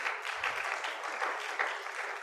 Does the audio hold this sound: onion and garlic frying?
no